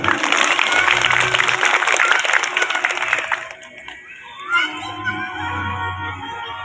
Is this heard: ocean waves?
no